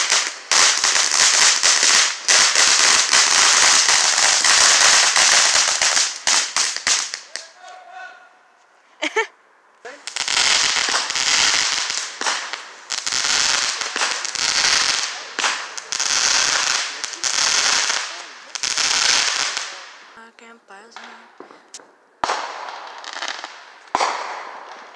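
Loud bursts of Fourth of July fireworks and firecrackers, crackling and popping in dense volleys, then dropping to short gaps and scattered bangs with sharp isolated pops, mostly without voices.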